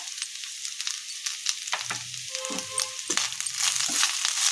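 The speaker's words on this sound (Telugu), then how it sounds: "ఇలా రైస్లో కలిసే వరకు మిక్స్ చేసుకోవాలి" Cooked rice is stirred with salt and spices in a pan for ajwain leaf rice, a soft sizzle under intermittent scraping and stirring knocks, close and moderately quiet.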